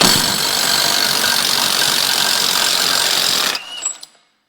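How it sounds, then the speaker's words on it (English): An impact wrench loosening a 36 mm front axle nut on a Chevy or GMC truck, one loud continuous buzzing burst lasting several seconds before cutting off, followed by a few faint clinks. "you're going to need an impact for this because it's typically held in there pretty good"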